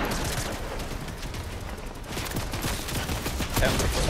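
Gunfire in a battle royale video game, including LMG fire, crackles as a dense, continuous barrage of rapid shots throughout, fairly loud with a voice briefly under it.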